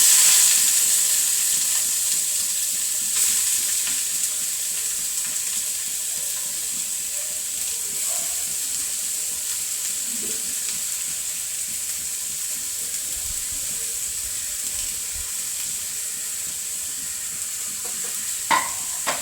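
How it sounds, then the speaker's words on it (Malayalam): Shredded cabbage frying in a wok over an outdoor stove after mustard seeds are popped, a steady close sizzle with a few scraping stirs and clinks, no voices. "ക്യാബേജ് ഇട്ട് കൊടുക്കാൻ പോകട്ടെ."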